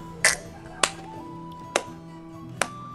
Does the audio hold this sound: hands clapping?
yes